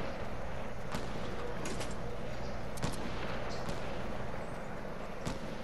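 Gunfire in a Fortnite match: several sharp, brief shots stand out over a dense, steady game soundscape, with one louder crack near the middle and lighter pops scattered before and after.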